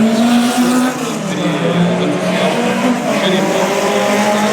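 Race cars roar around the Circuit des Remparts street circuit, loud close engine notes rising and falling as they pass, with a commentator speaking French underneath.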